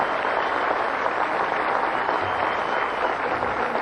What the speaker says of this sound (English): Okay, no more applause.